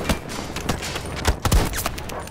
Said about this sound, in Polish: Ta snajperka aż tak mocno nie strzela, to trzeba na dwa strzały kogoś uderzyć